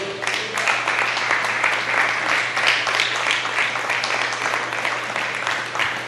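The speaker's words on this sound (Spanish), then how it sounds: "Bríndele un aplauso al Señor." A church congregation applauds during a Spanish-language sermon, a dense, steady crackle of many hands clapping together for several seconds at an even, full level.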